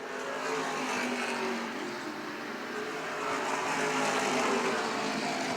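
Modified race cars roar around the Beech Ridge oval during an MRS race, a dense, continuous engine drone from several cars at a distance that swells and fades slightly as they pass.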